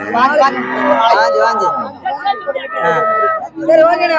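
Crossbred HF cattle moo at the Manapparai cattle market, with several drawn-out lowing calls heard up close amid a busy crowd and people talking nearby.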